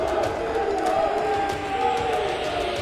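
A big, energetic crowd at a national elite boxing championship gives a dense roar of shouting and cheering that rises and swells over a steady murmur, with voices loud and close throughout.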